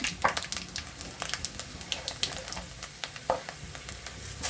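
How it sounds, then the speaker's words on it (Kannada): Chana dal frying in oil for shavige uppittu, a soft, steady crackle with scattered brief sharp pops and occasional stirring, no voices. "ಫ್ರೈ ಮಾಡಬೇಕು ಚೆನ್ನಾಗಿ ಕಡಲೆಬೇಳೆ"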